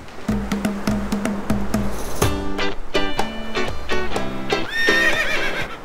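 Horse neighing while being bathed in seawater, several loud, close whinnies with harmonic squeals over a brief rhythm of hoof clopping.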